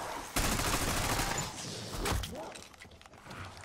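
Gunfire in Black Ops 6 Zombies, a dense loud burst of shots at the start that fades into scattered clatter and game ambience over a few seconds.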